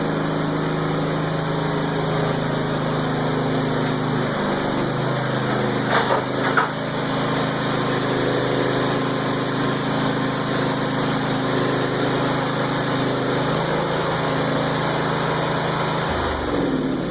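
Riding mower engine running on a Harbor Freight scissor lift, a steady, loud, droning engine hum with a brief rattle partway through, continuing without voices.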